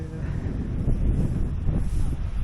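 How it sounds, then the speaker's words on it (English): Steady wind buffets the microphone at an outdoor festival campsite with a low, rumbling roar that runs throughout, broad and continuous with no clear pauses. "because it's so windy"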